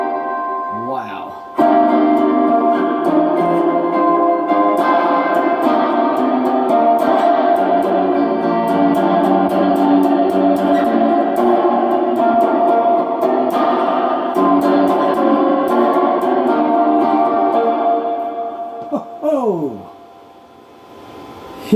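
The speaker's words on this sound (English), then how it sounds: "And turn on the Donner reverb," An electric guitar played through a Donner reverb pedal with an amp-style drive tone rings out in sustained, washy chords and notes with long echoing tails, brief voice at the start and end.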